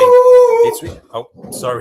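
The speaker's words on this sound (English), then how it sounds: "That's my dog that is barking on the side." A pet dog whines and howls in a sustained tone nearby, then a voice speaks briefly and quieter rustling and vocal sounds follow.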